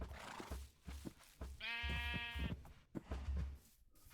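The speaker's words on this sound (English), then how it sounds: "Oh, hey, got a sheep too." A Minecraft sheep gives a single clear, wavering bleat at mid-distance, heard over soft in-game footsteps and ambient sound.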